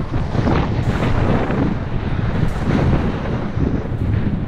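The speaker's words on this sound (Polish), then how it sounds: "Ale może zaraz skręcimy w bok doliny, może ten wiatr też się zmieni." Strong wind in a Pamir mountain valley near the Ak-Baital pass buffeting the microphone in a steady, rumbling roar with gusty swells, no voices.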